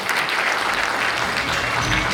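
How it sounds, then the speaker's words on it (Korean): An audience at an international drone sports and entertainment conference bursts into warm applause, a steady, dense wash of many hands clapping continuously and fairly loud throughout. "뜨거운 박수 한번 보내주시기 바랍니다"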